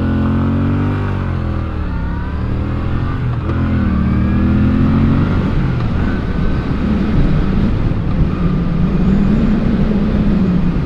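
A Moto Guzzi V9 Roamer motorcycle accelerating, its engine note climbing through the revs, then a steady loud drone with wind rush as it pulls away at speed, close and continuous.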